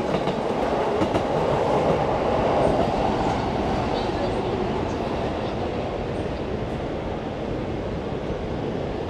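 A train passes in Tokyo near Miyashita Park, a steady loud rumble and rail clatter filling the whole stretch, with faint voices underneath.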